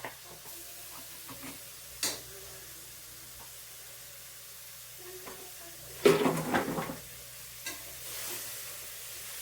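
More than a quarter kilo of tomatoes fries in a pan with spring onions: a quiet, low sizzle with occasional stirring scrapes, plus a louder burst of bubbling and clatter midway.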